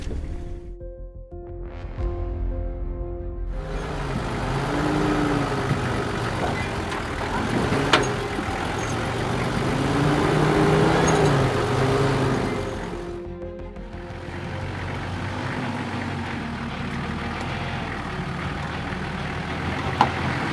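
An off-road vehicle crawls along a rough track in three-wheel drive, its engine laboring at low revs with a rumbling, shifting drone that swells and eases, close by and moderately loud, with brief quieter gaps between stretches of driving.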